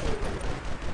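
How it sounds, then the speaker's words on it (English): Shotgun fire from the Natasha mech in a War Robots-style battle against Shell bots, a dense, loud burst of booming blasts in one continuous rush with no talking. "Eat these shotgun shells"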